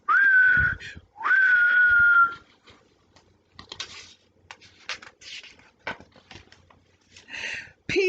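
A boy whistles two clear, sustained rising notes close by, each held for about a second, followed by faint scattered rustles and soft taps, then a brief whistle starting again at the end.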